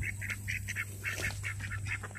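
Pet birds squabbling, a rapid series of harsh honks and quacks close by, overlapping in quick bursts over a steady low hum.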